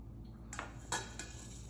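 Squid is strained and moved into another bowl: a few quiet, sharp clinks of metal and crockery against a faint background hiss.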